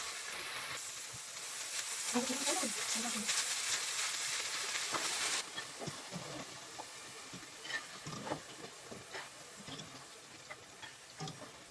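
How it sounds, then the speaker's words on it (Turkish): Steady sizzling and hissing of red and green peppers frying in hot oil in a pan, with occasional clinks and taps of utensils in the pan, close by. "ayrı bir tavada yağ kızdıktan sonra kapya biber ve yeşil biberleri ekleyelim"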